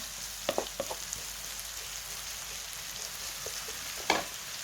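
Idiyappam kothu frying in a pan with beaten egg, a soft continuous sizzle broken by a few sharp scraping stirs of a spatula, fairly faint and without voices.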